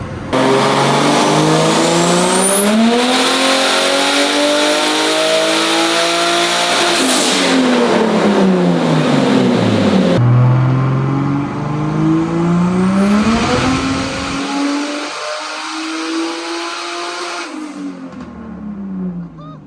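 A loud turbocharged BMW M50 engine in an E30 revs hard on a dyno through two long pulls, pitch climbing steadily with a high turbo whine on top, then dropping off after each run.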